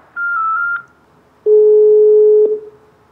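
Telephone line tones while a prank call is being placed: a steady higher beep for just under a second, then a longer, louder, lower steady tone lasting about a second, heard clearly with no voices.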